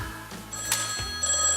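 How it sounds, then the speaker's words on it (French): A telephone bell used as a theatre sound effect rings in one short, loud burst of bright metallic trilling, heard alone. "ou encore le téléphone."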